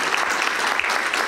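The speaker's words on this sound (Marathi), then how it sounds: "त्यांच्यासाठी जोरदार टाळ्या होऊ द्यात" Brief, dense clapping from an audience at a talk honoring a trading educator. The applause stays even throughout and is cut off mid-burst.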